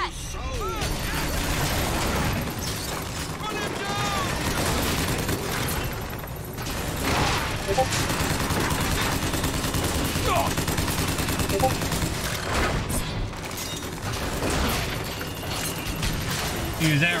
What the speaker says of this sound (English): Use every last bit of this gun